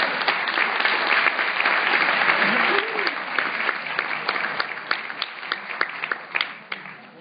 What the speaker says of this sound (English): Now you can applaud after the last speaker.